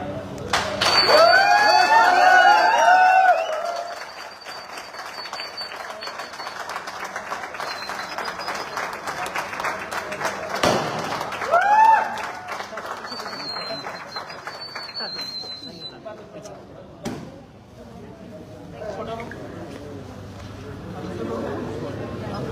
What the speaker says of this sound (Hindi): सारे लोग जल्दी से हाथ लगाएं, केक कटे और जोरदार तालियां हो जाए।